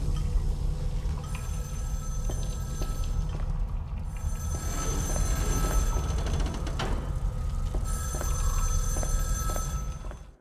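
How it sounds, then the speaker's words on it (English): Old-style telephone bell ringing in the Reprobates: Next Life video game, repeated bursts of metallic ringing with short pauses between them over a low steady background hum. "I can hear a phone ringing again."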